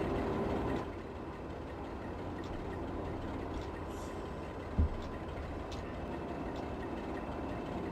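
A Pacer diesel train in the Open Rails railway simulator gives a steady, close mechanical rumble with a dull engine drone. A brief sharp knock sounds near the end, and no one speaks.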